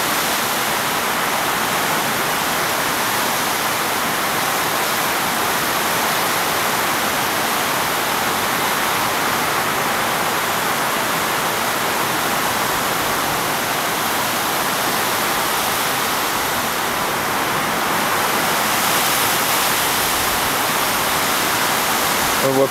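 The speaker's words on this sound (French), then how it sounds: "Le déluge." A torrential tropical downpour in Tahiti roars as a dense, steady hiss of heavy rain, loud and unbroken throughout, with no voices.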